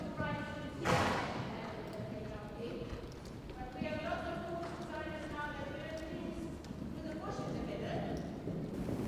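A horse canters around a riding arena in an eventing training session, hoofbeats thudding in a steady rolling rhythm at moderate distance while people talk over it.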